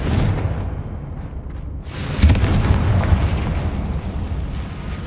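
A Confringo fire spell blasts in Hogwarts Legacy, a loud explosive boom with a sharp burst near the middle, then a rumbling roar that lingers to the end over a dense game soundscape.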